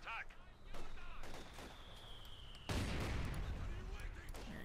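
A mortar fires in the WWII real-time strategy game Company of Heroes 2 during a 1v1 match, with sharp booms and battle gunfire rising into a loud sustained barrage.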